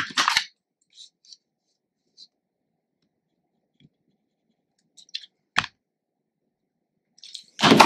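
Scissors cut patterned paper for a scrapbook page: a few close, sharp snips at the start, middle and end, with faint small rustles between and otherwise quiet.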